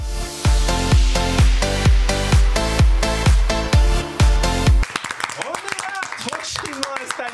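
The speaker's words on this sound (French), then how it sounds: "C'est un petit jingle et on continue." A short TV show jingle from a French courtroom-style talk program: a steady run of punchy, evenly spaced musical hits, then a brighter, busier tail of scattered tones, loud and up front.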